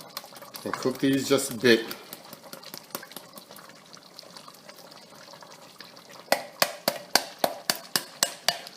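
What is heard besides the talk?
drained beans being added to a cooking pot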